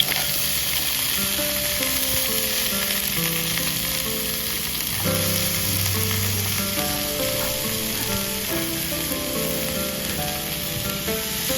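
Onion, tomato and green chili frying in ghee for a cheese pizza omelette, a steady close sizzle running the whole time with soft stirring noises and low tonal background music underneath.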